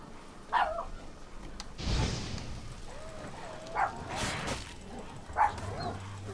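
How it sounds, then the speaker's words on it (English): Wolves in the Witcher 3 video game give several short, sharp barks and yips, spaced apart and fairly faint, with brief whines between them amid quiet game ambience. "The puppies she's talking about are wolves in the game."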